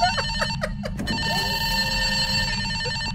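A cell phone rings with a repeated electronic chirping tone, a few quick trilling bursts followed by a sustained ringing chime over a noisy background.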